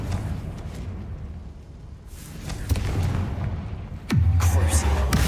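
A Confringo blasting spell in Hogwarts Legacy goes off with a deep, booming explosion near the end, following a rumbling game backdrop and a few thumps.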